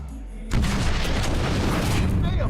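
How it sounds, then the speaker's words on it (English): A grenade goes off in the video game Watch Dogs, a sudden loud boom followed by a sustained roar of blast noise and debris that holds steady to the end. "That grenade was so bad."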